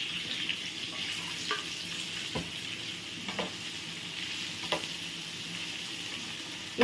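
Boiled, salted and cut potatoes frying in a pan and being stirred gently, a constant close sizzle with occasional scraping and clinking of a spoon against the pan.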